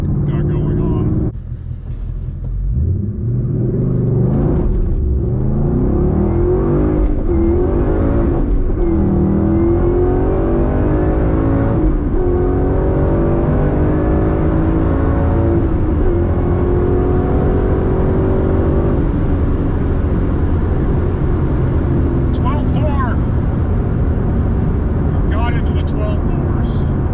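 A 2015 Ford Mustang GT accelerates hard on a drag launch, its V8 roaring loud and near with rising engine pitch through the gears and a long sustained pull. A person talks over it.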